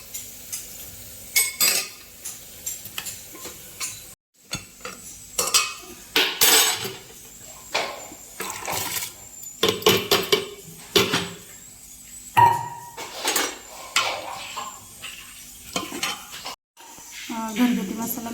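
Mutton curry masala, with cumin and water added, stirred in a metal pan: repeated scraping and clinking strokes of the spoon with brief pauses, a soft sizzle underneath, close and fairly loud.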